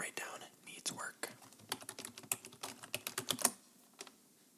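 Close, crisp clatter of fingers typing on a computer keyboard in a quiet room, bursts of quick keystrokes building to a dense run and then stopping, with soft whispering near the start.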